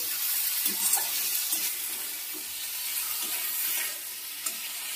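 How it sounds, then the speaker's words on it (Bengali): Ginger paste and spices fry in a pan for a chhyachra, a steady, loud hissing sizzle that fills the scene. Soft scrapes and dull taps from a stirring spoon sit underneath. "আদা বাটাটা দিয়ে দিলাম। এবার একটু ভালো করে আবার কষাবো।"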